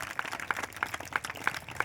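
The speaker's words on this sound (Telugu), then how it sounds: "ఇప్పుడు కొంత చప్పట్లు గట్టి వస్తారు." Rhythmic clapping from a church meeting audience, about six evenly spaced claps over a couple of seconds, fairly close and clear.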